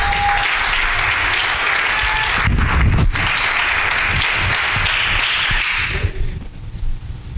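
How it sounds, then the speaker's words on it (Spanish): Loud, dense applause from a church congregation fills the space, steady clapping for several seconds before thinning and tapering toward the end. "Denle un aplauso fuerte a Cristo Jesús."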